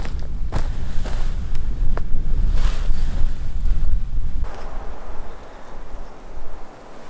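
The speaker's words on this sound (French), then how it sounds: "Quand même un petit vent," Wind blows steadily outdoors at a bivouac site beside a fir tree, a continuous rushing gust noise with low rumbling buffeting that persists throughout, moderately loud and alone.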